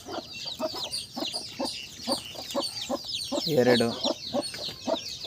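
Native chicken chicks peep near a coop with clucking hens, producing repeated short chirps at a steady rhythm, while a person speaks briefly in the middle.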